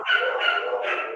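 A dog barks and howls in three close, sustained yowling bursts, loud and near, with no talking over them.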